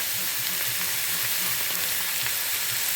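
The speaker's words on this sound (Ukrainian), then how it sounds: "Так, морква в нас підсмажилась." Carrots fry in a pan with a dense, even sizzle and crackle that runs close and steady throughout, with no talking over it.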